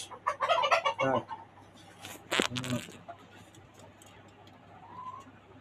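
A red tiger breeder hen clucks in a farm coop, with a quick run of clucks followed by a second burst a moment later, then quieter background sounds.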